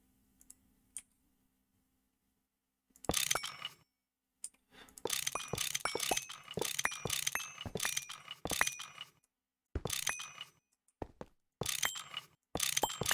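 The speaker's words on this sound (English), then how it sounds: "I love how fast this wrench works compared to the other." Rapid ratcheting clicks of a wrench working in GregTech: New Horizons, crisp mechanical bursts repeating in quick clusters with short silent gaps, alone and close.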